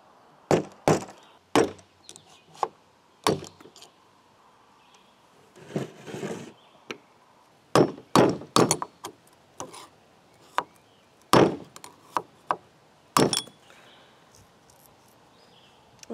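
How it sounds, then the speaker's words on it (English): Sharp metallic knocks as bearings are hammered out of an old tire, roughly a dozen irregular hits, some in quick pairs, fairly close and loud against a quiet background with no talk. "Now I'm trying to get some bearings out of my one last tire"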